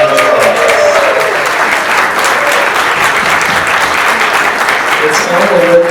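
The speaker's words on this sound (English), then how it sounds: "Let's give a round of applause." A room full of people at a Startup Tech Valley tech meetup give a sustained, loud round of applause, a dense even roar of clapping that holds steady throughout with no break.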